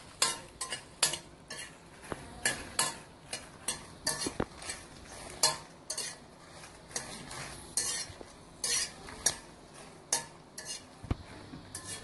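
Around fifty grams of dried red chillies are fried and stirred in a pan, with a rhythmic series of sharp spatula scrapes and clinks over a faint sizzle, close and without talk.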